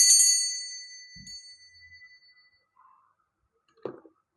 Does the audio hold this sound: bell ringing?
yes